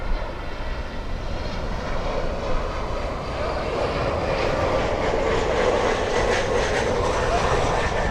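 An American Airlines airliner at Miami International Airport, its engines producing a steady, loud jet rumble that holds evenly throughout, moderately close.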